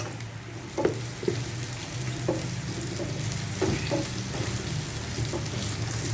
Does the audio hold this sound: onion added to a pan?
yes